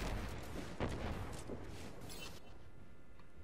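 Gunfire in the video game Overwatch during a 3v3 match, a dense burst of booming shots for about two seconds that then fades to quieter background, no talking.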